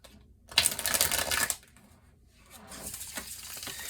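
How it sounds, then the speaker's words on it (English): Tarot cards are shuffled close by, giving a quick, crisp riffling patter that lasts about a second, then softer rustling as the deck is handled. "Let me get one more shuffle in here."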